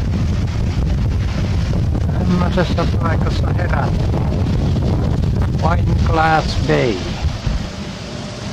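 Strong wind buffeting a boat anchored in Wineglass Bay in rainy weather, a loud continuous roaring rumble under someone talking.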